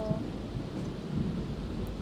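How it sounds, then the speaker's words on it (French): A thunderstorm in a video game, with a steady low rumble of thunder and rain noise filling the whole stretch at moderate volume and no talk. "C'est le retour de l'orage."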